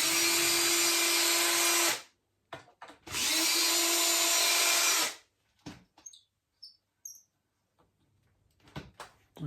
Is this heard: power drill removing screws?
yes